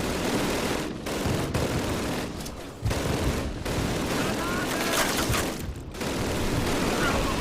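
Mortar fire rains down in the first Call of Duty game: a dense, continuous roar of explosions and gunfire, loud and close, with only brief dips in the barrage.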